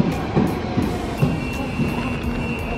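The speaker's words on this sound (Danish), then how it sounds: "Er det vores tog? Det er ikke vores tog," A train pulls into a station platform, a faint rumbling rolling noise with a thin high squeal from the wheels, heard at a distance over steady station ambience.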